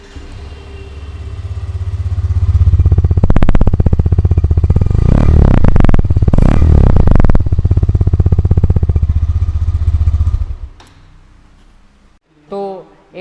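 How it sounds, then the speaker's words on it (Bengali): A Hero Xtreme 125R motorcycle engine runs close by, idling then revving up in several loud rising bursts before settling and cutting off, followed by a brief quiet stretch and a short voice at the very end. "তো চলো একবার তোমাদেরকে এর এক্সস্ট নোটটাও শুনিয়ে দিই।"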